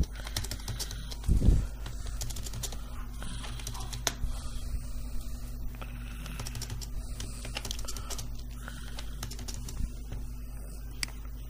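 Typing on a computer keyboard while filling in an Excel timesheet, a fairly close run of quick, irregular key clicks and taps with a low background hum, one sharper knock early on, and no talking.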